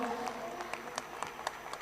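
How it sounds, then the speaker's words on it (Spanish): Convention audience applauding at a Comic-Con panel in Chile, a dense wash of clapping with scattered sharper claps standing out, voices mixed in under it. "Démosle un fuerte aplauso, el último aplauso que se lo merece, Marie."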